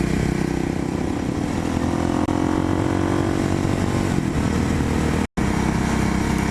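A Kawasaki KLX motorcycle engine runs steadily the day after Hurricane Dorian, a loud, continuous buzzing drone close by with slight shifts in pitch and one brief dropout near the end.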